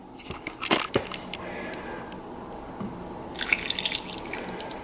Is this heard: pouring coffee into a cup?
yes